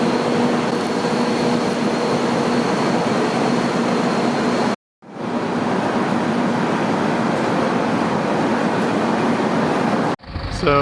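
Interior of a Tren Maya train at the new Campeche station, a loud, steady broadband rumble with a persistent hum, cut briefly by a short silence midway and ending in a sharp transition.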